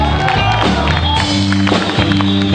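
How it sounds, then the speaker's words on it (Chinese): A concert crowd at a Hakka folk music show applauds the newly introduced drummer, with loud, steady clapping and cheering running throughout over sustained instrumental tones. "掌声鼓励一下。"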